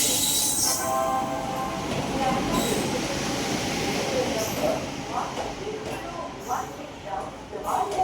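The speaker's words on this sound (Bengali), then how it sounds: "এখন আমাদের ট্রেন ক্রস করছে ব্রাহ্মণী নদীর ওপরে অবস্থিত নলহাটি শহরের জগধরি ব্রিজ।" An express train rolls across a river bridge, a continuous loud rumble and rattle of wheels with intermittent metallic squeals and clanks, a voice speaking over it.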